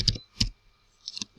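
Computer keyboard keys are struck in two quick separate clusters of crisp clicks, close and clear against near silence.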